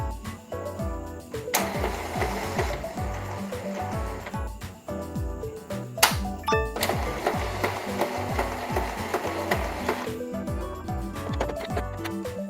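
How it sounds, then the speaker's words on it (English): An Epson L121 inkjet printer charging ink, its print head shuttling with repeated rhythmic mechanical whirs, clicks and motor buzzes, close and steady with a few sharper knocks, with no talking. "Printer head is doing weird noises."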